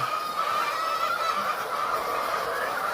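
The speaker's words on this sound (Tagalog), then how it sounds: "ganyan po kaingay ang mga manok, lalong-lalo na po kapag mangingitlog sila" A dense, noisy chorus of chickens at a poultry farm continues steadily without a break, many birds squawking and clucking together at close range.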